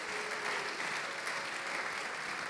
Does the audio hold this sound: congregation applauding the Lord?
yes